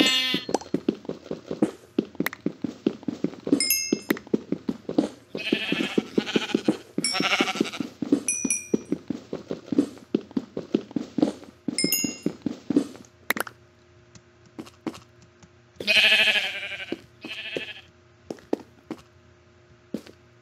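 Sheep bleat repeatedly, some close and loud, others fainter, with scattered thumps and shuffling footsteps between the calls.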